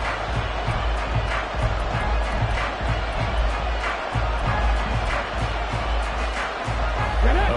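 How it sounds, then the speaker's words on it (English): Football stadium crowd at a divisional round playoff game roaring in a sustained, loud wall of noise with rhythmic chant-like surges and a commentator's voice audible over it. "this crowd's going to get even louder"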